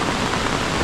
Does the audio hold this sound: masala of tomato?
no